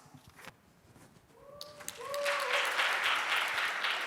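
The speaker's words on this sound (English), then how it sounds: "Please give him an applause." An audience at an international cultural academic presentation contest claps for a high school student presenter. It opens with scattered taps and quiet room noise, then a few chimes sound and the clapping swells and holds at full strength.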